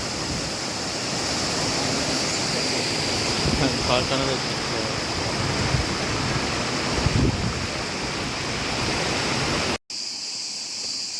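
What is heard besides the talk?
waterfall on a hiking trail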